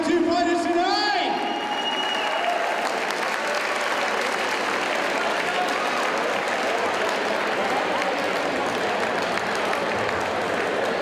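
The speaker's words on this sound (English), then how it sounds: "make some noise for the two fighters tonight!" A crowd at a charity boxing event applauds and cheers for two fighters, a loud sustained wash of clapping that follows a brief announcer's voice.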